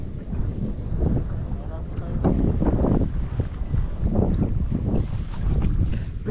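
Strong gusting wind buffets the microphone aboard a small boat on a pond, a heavy rumbling roar that swells and eases in waves, with water sounds and a voice talking underneath.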